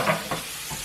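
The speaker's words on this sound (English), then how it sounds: "Right, in goes the mushrooms." Mushrooms hit a hot pan of pancetta with a brief sizzle and a couple of quick stirring scrapes, close and fairly loud, then a softer steady fry.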